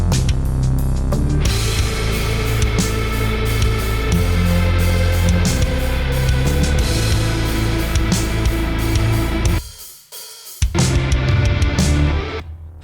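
A programmed metal drum kit with ghost notes pounds through a busy pattern with cymbals washing over it, then briefly drops out before crashing back in.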